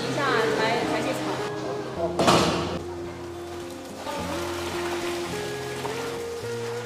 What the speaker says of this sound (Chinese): 用清水冲一下